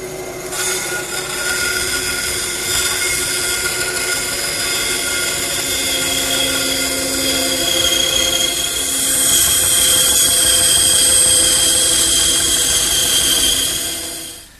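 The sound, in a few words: bandsaw roughing out a wooden handle shape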